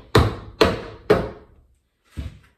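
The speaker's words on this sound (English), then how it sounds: "have to hammer it in" Three evenly spaced hammer strikes ring out close by as a Keter garden bed is assembled, followed after a pause by a softer fourth knock.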